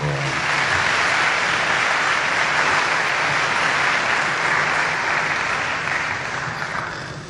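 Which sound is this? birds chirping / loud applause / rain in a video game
loud applause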